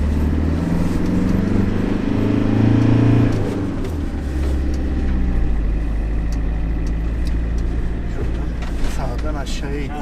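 A 2005 Fiat Ducato van fitted with an automatic clutch system pulling away in first gear, a steady low engine drone with a heavier start that settles, heard from inside the cab while people talk over it.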